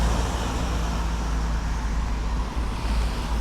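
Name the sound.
cars passing on a mountain road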